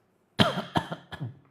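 Several coughs, about three in quick succession, loud and close, from people coughing on instruction during a group therapy session, fading with each cough.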